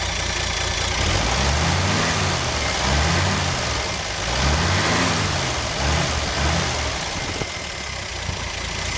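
A 1957 GMC truck engine idles steadily with a leaking exhaust, a continuous low rumble with slight rhythmic surges and puffing, close by and with no one talking.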